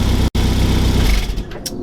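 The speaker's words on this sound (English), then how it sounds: "you can hear that exhaust blow" A Classic Mini Mayfair with a leaking exhaust runs close by, giving a steady rapid puttering chuff with a brief dropout near the start, then a slight change in tone.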